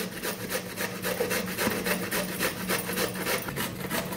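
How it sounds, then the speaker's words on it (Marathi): Raw mango being grated quickly on the coarse side of a hand grater, a steady run of rhythmic rasping strokes, close and fairly loud, with no voices. "आणि आता मी ही परत फटाफट अशी किसून घेते।"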